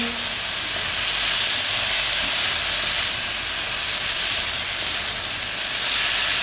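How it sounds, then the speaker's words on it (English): Chhole chickpeas tossed and stirred in a hot pan, giving a steady, loud hiss and sizzle that runs unbroken and close throughout, with no voices. "I am constantly kind of tossing and stirring this."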